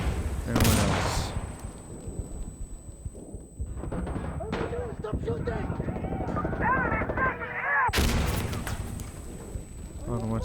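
Gunfire rattles in the video game Insurgency: Sandstorm, with loud bursts at the start and again near the end and scattered shots between, while players talk throughout.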